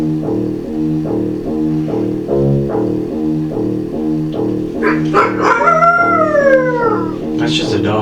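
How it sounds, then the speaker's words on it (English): A dog howls over a droning musical backdrop, a long rising and falling wavering howl in the second half, fairly close and clear above the steady tones. "That's just a dog."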